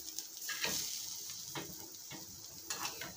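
Food frying in hot oil in a pan over low heat, a steady close sizzle with a few brief stirring scrapes and clinks, no voices.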